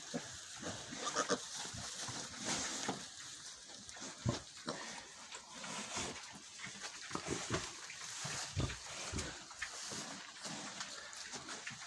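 Low, soft grunts and snuffles from a sow close by, irregular and fairly quiet against a muffled background.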